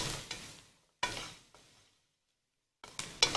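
Flour frying in butter in a pan for mushroom soup, heard as short bursts of close sizzling and stirring scrapes separated by brief quiet gaps.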